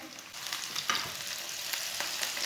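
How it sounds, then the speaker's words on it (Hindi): Finely chopped onion and garlic browning in oil in a pan, stirred with a spoon, giving a soft, steady sizzle with light scraping and crackles, heard quietly and up close. "लहसुन और प्याज को हल्का सा ब्राउन कर लेंगे।"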